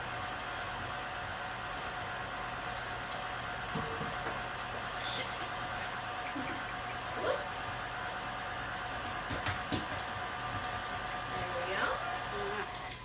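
A stand mixer with its whisk attachment combines banana bread batter, giving a continuous loud motor whir that holds steady throughout with a few faint knocks from the bowl.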